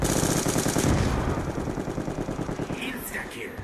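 Rapid automatic gunfire bursts in a zombie survival video game set at a bus depot, loud and close, a fast rattling burst that fades into lighter shots and clicks near the end.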